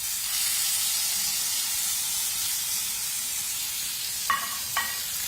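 Lamb chops sizzle in smoking-hot oil in a pan, a steady broad hiss filling the clip alone, with two brief sharp crackles near the end.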